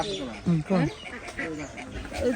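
Ducks quack in a few short, nasal bursts close by, with people talking in the background throughout.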